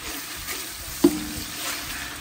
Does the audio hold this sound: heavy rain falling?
no